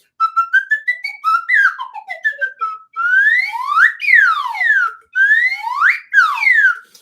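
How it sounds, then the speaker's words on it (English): A slide whistle plays alone, loud and close. It opens with quick stepped rising notes, then moves into long swooping glides that rise and fall in repeated arcs with short pauses between them. "I should have used the slide whistle, the holy slide whistle for Tagora"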